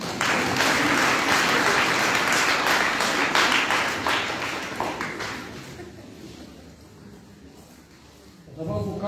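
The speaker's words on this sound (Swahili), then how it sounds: "Nipigie makofi." A church congregation at a Swahili Sunday Mass for the faithful departed breaks into loud sustained applause that gradually fades, followed by a brief burst at the end.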